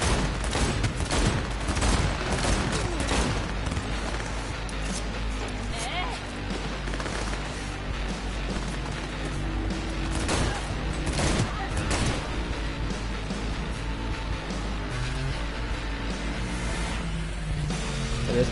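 Rapid gunfire from Cyberpunk 2077 crackles almost nonstop, dense overlapping shots and bursts with occasional heavier booms, loud and close throughout the stretch of combat.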